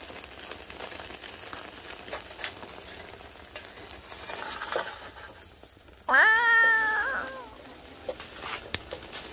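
LA galbi and pork belly sizzle on a grill on a rainy day as a soft, continuous crackle. Midway a nearby cat lets out one loud, drawn-out meow over the frying.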